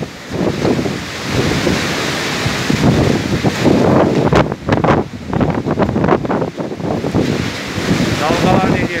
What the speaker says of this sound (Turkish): Rüzgarın sesini dinliyorsunuz.